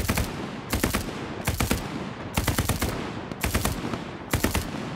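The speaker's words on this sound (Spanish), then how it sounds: "Despliego el arma y disparo de supresión." Suppressive gunfire in a video game comes in rapid automatic bursts, five or six volleys of sharp cracks separated by short pauses, loud and continuous over a low background.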